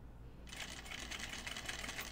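A sewing machine stitching through thick fabric corners, starting after a brief quiet lead-in and then running as a steady, fast mechanical whir with a rapid rhythmic chatter, close and fairly faint.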